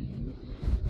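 Low, rumbling wind buffeting a microphone, steady and close throughout, swelling louder near the end with no one talking.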